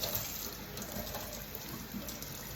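Warm tap water runs steadily from a faucet to wet a Norwex microfiber mop pad, a continuous close rushing stream with no talk.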